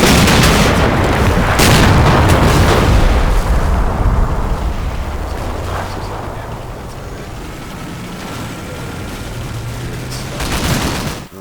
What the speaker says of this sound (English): They start shooting up all these BTRs behind the lines.